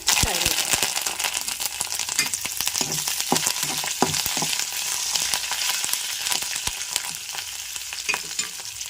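Dried red chillies and curry leaves sizzle and fry in hot oil in a tempering pan for a coconut ridge gourd chutney, a steady close crackle with scattered sharp pops and stirring clicks, no talk.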